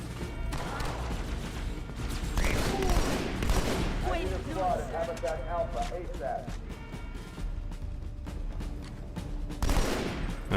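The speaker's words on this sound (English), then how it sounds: "The gunfire from the Marines sounds really good." Marines fire guns in the video game Halo 2: Anniversary, a dense spread of sharp popping bursts and rattling fire with explosions mixed in, steady and loud for the whole stretch, with no speech over it.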